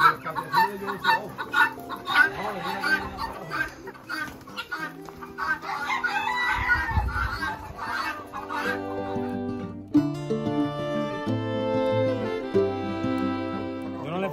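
Roosters at a rooster farm in Puerto Rico, with repeated loud crowing and clucking close by, alongside people talking.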